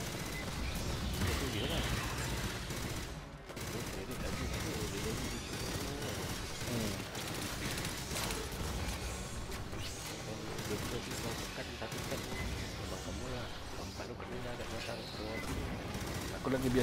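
Rifle fire set to burst mode in Aliens: Fireteam Elite on PS4 runs under dense, continuous game action, with rapid shots blending into the constant noise while someone talks over it.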